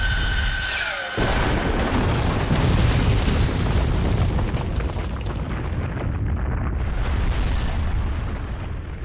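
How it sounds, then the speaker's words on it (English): A huge, sustained explosion from the Naruto Shippuden Ultimate Ninja Storm 2 video game hits with a sudden boom, then rumbles and roars loudly for several seconds before slowly fading. "Because my art is an explosion!"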